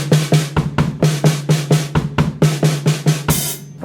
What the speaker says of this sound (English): So you could play the whole thing just on the snare and the kick.